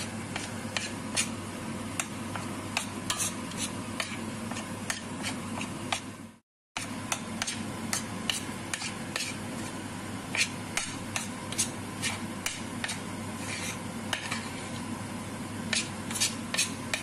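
Walnut halva is stirred steadily in a pan, with repeated soft scraping clicks of a utensil against the pan in an irregular rhythm, close and fairly loud, with one brief silent break midway.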